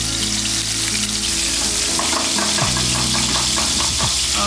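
Soya chunks frying in a pan of hot oil, a dense steady sizzle with bursts of bubbling and popping running loud and close throughout, no talk.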